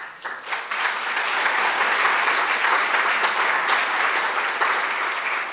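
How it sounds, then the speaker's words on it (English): Sustained audience applause at a university lecture, a dense steady clatter of many hands clapping close and loud throughout, with no talk over it. "Give them a big round of applause if they're here"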